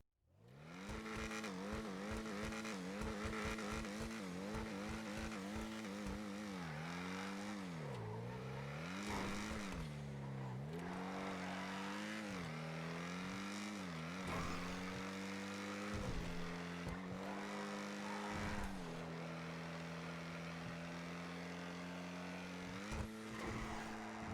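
A four-door sports car in GTA Online drives hard with a loud, continuous engine note that climbs and drops through repeated gear shifts and revs, alone without any talk.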